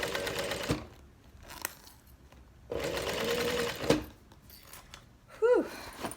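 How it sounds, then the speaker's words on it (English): A sewing machine stitches through a thick tote bag seam in two sustained close bursts of rapid mechanical whirring, separated by short pauses and quick handling clicks, with a brief squeaky sound near the end. "I love this machine. It just sews right over it."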